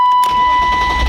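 A BMW E36 M3 with the exhaust removed cranks and fires, a loud raw rasping engine note swelling into a rough idle close by, with a steady electronic whine over it.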